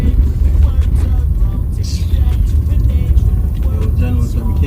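A car engine makes a loud, continuous low rumble and drone close by, a vehicle with a mechanical fault or trouble, steady throughout with no clear talking.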